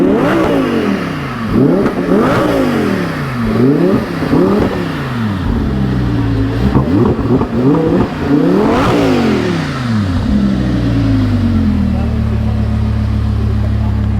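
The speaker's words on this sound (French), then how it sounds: "Alors ça c'est le quad. Je viens d'apprendre qu'il y a un moteur de Lamborghini dedans." A powerful Lamborghini engine in a quad revs hard again and again, pitch sweeping up and down in repeated loud bursts before settling into a steady idle, close and dominant, at a car show in Monaco.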